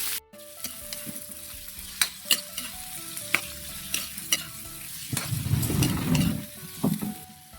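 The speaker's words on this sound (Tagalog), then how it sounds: "manggigisa na tayo. Lagay tayong bawang, sibuyas," Garlic, onion and tomato being sautéed in a pan for a Filipino pechay and hyacinth bean dish: a few sharp utensil clinks from stirring, then a swelling burst of sizzling frying that fades, with no talk.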